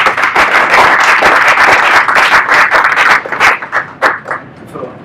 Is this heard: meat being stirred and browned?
no